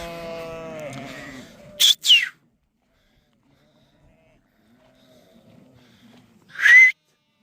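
Ewes with their lambs in a spring flock bleat in two loud, separate calls a few seconds apart, with a quieter stretch of low murmur and distant sound between them and a voice at the start.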